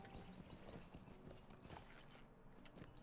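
A horse's hooves clip-clop steadily in Lord of the Rings Online, a faint rhythmic trot with soft ambient game sound around it.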